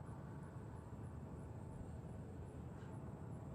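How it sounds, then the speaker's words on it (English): A Delta CRJ9 regional jet taxis for departure at Nashville International Airport, a faint, distant and steady engine rumble and whine with no voices. "another flight taxiing for departure, Delta 5190, headed to RTU"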